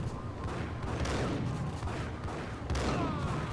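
Continuous gunfire rattles through a firefight in the Max Payne video game, a dense, muffled barrage with overlapping shots and a heavier burst near the end.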